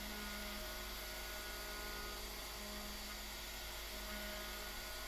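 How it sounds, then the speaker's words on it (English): A router cutting the truss rod access cavity at the neck end of a guitar body, guided by a template. It whines steadily and loudly throughout, a sustained high-pitched motor drone with a faint lower hum beneath and no talking. "I'm just using the same router then to using a template to route out where the truss rod access is going to go at the neck"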